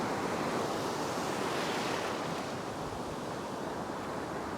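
Warm summer surf breaking on a beach, a steady rushing wash of waves close to the microphone with wind noise and no voices.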